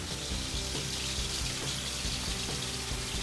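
Water running from a Boil Boss into a crawfish pot, a steady hissing, splashing stream that carries on evenly at a moderate distance, with no voices.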